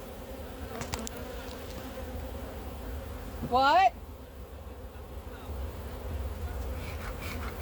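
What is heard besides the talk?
honeybees buzzing around a hive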